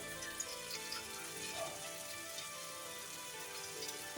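White sesame fritters frying one at a time in a little oil, a faint, steady crackling sizzle with tiny pops throughout, heard alone.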